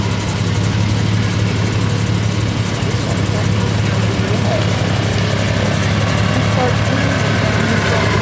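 Polaris Scrambler 500 four-wheel-drive ATV racing on ice at a bracket ice racing tournament, its engine a steady, loud, continuous drone with a low hum throughout, under crowd and announcer noise.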